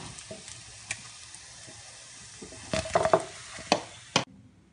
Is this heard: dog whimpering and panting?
no